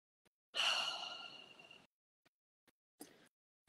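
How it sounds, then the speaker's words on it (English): A deep, slow breath is exhaled as a long audible sigh during a breathing exercise, close and clear, followed by a short second breath, with near silence around it. "And take a breath."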